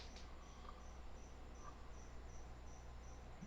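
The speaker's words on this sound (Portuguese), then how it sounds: "Tá, é um grilo." A cricket chirps in a faint, steady, evenly spaced high trill over a low background hum, with no voices.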